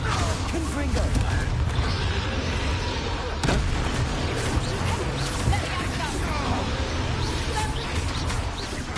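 Fiery Confringo spell blasts in Hogwarts Legacy, a busy stretch of crashing bursts and whooshes with one sharp crack near the middle, mixed with other combat noise and speech.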